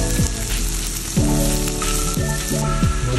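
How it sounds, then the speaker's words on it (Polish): Buckwheat mixture frying in plenty of clarified butter, a steady close sizzle and crackle with repeated scraping stirs through the pan. "Smażę to na dużej ilości masła klarowanego."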